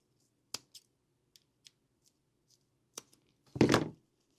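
Scissors snip through ribbon: a few faint, scattered clicks, then one short, crisp slicing cut near the end, close and quiet.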